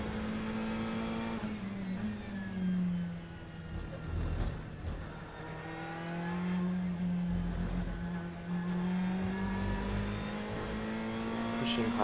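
A Ferrari 488 GT race car is driven hard on a track, its engine note rising and falling through gear changes and corners, loud and continuous from onboard, with a voice talking underneath.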